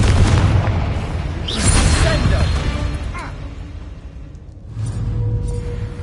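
A Confringo spell from Hogwarts Legacy bursts in deep, booming explosions with a whooshing rush, loud and close amid layered game effects, with a voice speaking over it.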